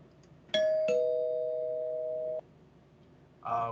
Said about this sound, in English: I will ring the spoiler bell in 3, 2, 1.